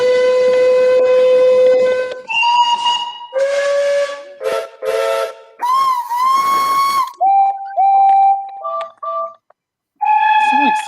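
A series of loud, close steam locomotive whistle blasts for a BR Standard Class 5 engine, each a sustained tone of differing pitch and length with short gaps, ending in several shorter toots; a voice speaks briefly.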